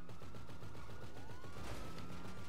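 Dense, rapid gunfire rattles continuously as shots are fired at police in GTA 5, a steady loud burst with no pauses.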